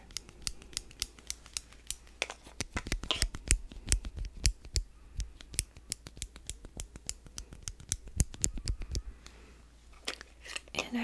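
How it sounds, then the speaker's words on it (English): Close, crisp scissors snipping repeatedly in quick irregular bursts, dozens of sharp cuts with brief pauses, no talking. "And then I have some scissors here."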